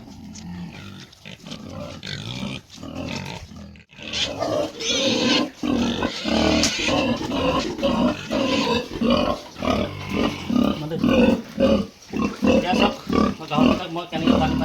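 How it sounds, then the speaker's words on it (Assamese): Pigs being fed mixed feed with water grunt and snort loudly and close by, in dense overlapping bursts while they eat. "গাহৰিবিলাক খাব তেতিয়া আপোনালোকে চাব কেনেকৈ দিম মই"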